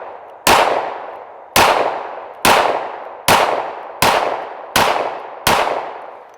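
Seven loud 9mm shots from an M&P pistol at a steel VTAC target, fired at a steady pace, each bang followed by a ringing clang from the steel, alone with no talk.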